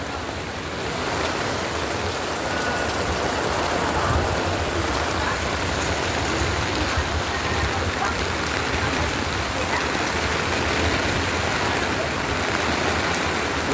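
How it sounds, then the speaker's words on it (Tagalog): Heavy rain from Typhoon Kristine pours in a dense, constant roar of hissing downpour that stays loud and unbroken throughout. "Grabe, lalong lumalakas ang ulan ngayon."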